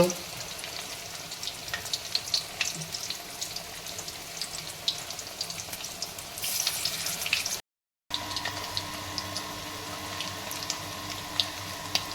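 Fritters of bread dipped in potato and carrot batter fry in hot oil, a continuous close sizzle with light crackles, a brief gap, then the sizzling resumes steadily.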